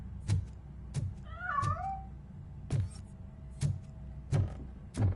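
A cat meows repeatedly in RoboCop Rogue City on PS5, a rising and falling cry set among several heavy thudding footsteps or impacts, with no talking over it.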